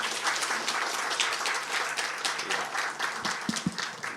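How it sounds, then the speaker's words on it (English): Sustained applause from a crowd at a NASA public lecture on building a Moon base, many hands clapping densely and steadily throughout, with a few louder individual claps standing out near the end. "Maybe can we give him another round of applause,"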